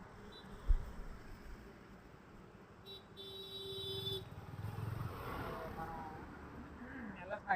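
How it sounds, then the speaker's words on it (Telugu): Motorcycles and cars pass along a highway near Goa, heard from the roadside as swelling engine rumbles with a brief horn toot, fairly distant and faint under a nearby voice talking. "రోడ్ పైన చూడొచ్చు వెహికల్స్ వస్తున్నాయి."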